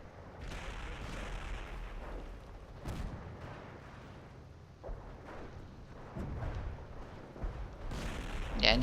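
Incoming artillery in Company of Heroes, with shells landing in repeated muffled booms and thuds over a low battlefield rumble, at moderate distance and fairly faint.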